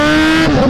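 A Kawasaki Z1000 motorcycle revs hard, a loud, close, strained engine tone climbing in pitch over a brief burst of acceleration.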